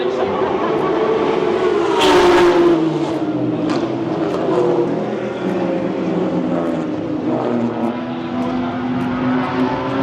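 GT4 race cars at the start of a race, heard as a dense loud engine roar with overlapping revving tones that rise and fall as cars pass, continuous throughout with no talk.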